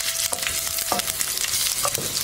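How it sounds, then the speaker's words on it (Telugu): Green chillies fry in oil with mustard and fenugreek, giving a close, continuous hiss and sizzle with a few quick spatters and stirring scrapes in the brief span. "ఇలా పచ్చిమిరపకాయలు కొద్దిగా వేగాక"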